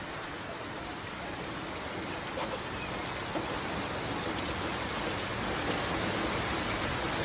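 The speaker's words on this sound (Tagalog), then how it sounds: "Palabas na naman po ng ulan" Steady outdoor rain pours down as a dense, even hiss across the whole stretch. A few faint taps rise out of the wash, and no voices can be heard.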